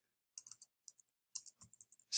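Typing on a computer keyboard while entering a git remote command, heard as bursts of sharp, close clicks in irregular clusters separated by short pauses.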